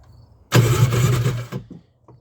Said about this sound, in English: That tells you the engine is turning over.